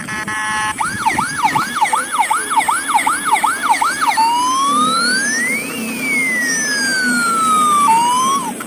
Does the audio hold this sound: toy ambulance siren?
yes